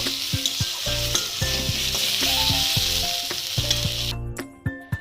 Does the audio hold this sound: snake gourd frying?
yes